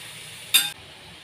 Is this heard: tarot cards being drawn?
no